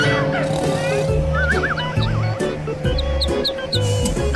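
Ducks quack in a busy, animated scene. Rapid honking calls with wobbling, bouncy tones crowd over a steady low backdrop and continue throughout.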